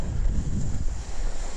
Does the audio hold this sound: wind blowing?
yes